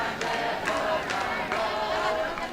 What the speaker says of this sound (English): what you're hearing is the sound of a pride march and a gay rights protest